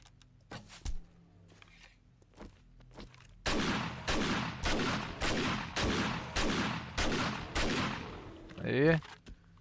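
Eight gunshots ring out in quick succession in the 7 Days to Die zombie survival game, evenly spaced sharp reports after a few quieter clicks, ending with a brief mechanical reload sound.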